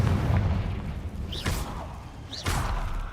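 Confringo fire spell explosions in Hogwarts Legacy: two whooshing blasts with rising swish and booming impact about a second apart, over a constant loud game ambience.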